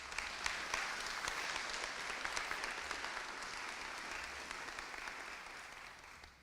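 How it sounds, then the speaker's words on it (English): An audience at a birthday celebration honoring Dr. W.E.B. Du Bois breaks into sustained applause, a dense, fairly distant patter of many hands clapping steadily before tapering slightly. "Another round of applause for them"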